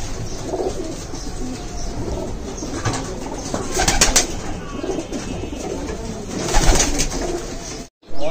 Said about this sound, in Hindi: अब देख सकते हैं कबूतरों के खड़ान, देखिए सारी फीमेल हैं